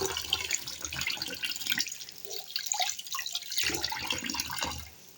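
Water runs and splashes close by as rui fish pieces soak in a kitchen vessel, a continuous trickle that briefly thins out midway before picking up again.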